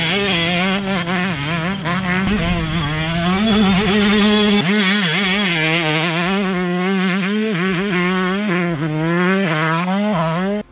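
A 2024 Yamaha YZ125 two-stroke dirt bike revs hard and close, its high buzzing engine rising and falling steadily through gear changes for the whole stretch, alone without talk.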